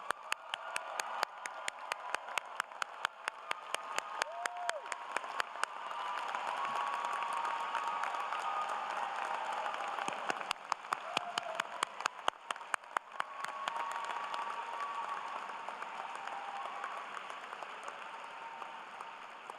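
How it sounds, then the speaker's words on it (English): Graduation crowd at a law school commencement applauding the JD class of 2024, a long sustained wash of clapping with sharp, regular near claps punctuating it throughout. "Please give them another round of applause."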